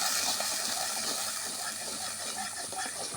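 Salt, ground spice paste, turmeric and dried chili powder fry in a pan with a steady, soft sizzling hiss, close by and unbroken, with no voices.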